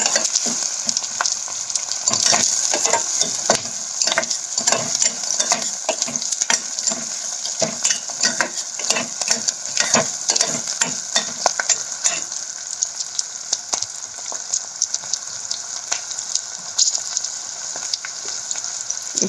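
Steady, loud sizzling of onions, green chilies and curry leaves frying in hot oil for an okra curry, with occasional stirring clicks and no talking.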